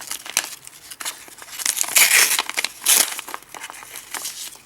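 A tightly glued mail parcel is torn open by hand, giving close crinkling and ripping bursts of paper or cardboard, with the loudest tears near the middle and again shortly after.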